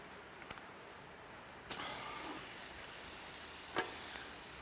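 Butter sizzles in a cast iron pot on a wood-fired pot belly stove, a soft hiss that jumps to a steady loud frying crackle partway through, with a faint clink near the end.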